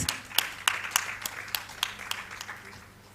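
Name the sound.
audience applauding for a speaker at an event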